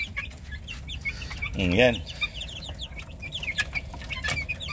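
Chickens and young chicks of the Bulik breed clucking close by on a backyard farm, with a louder warbling cluck in the middle, scattered soft chirps around it and a person speaking briefly.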